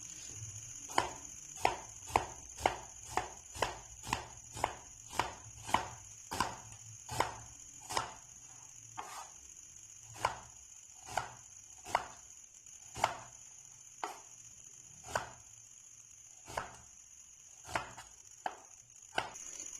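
A knife finely chops onion on a board in a steady run of sharp, close taps, quick at first and then spacing out and slowing, with no voices.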